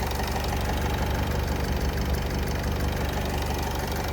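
The 2.0-litre diesel engine of a 2013 Renault Trafic van idles steadily with a low, rumbling drone and faint knocking, continuous and close, with no voices.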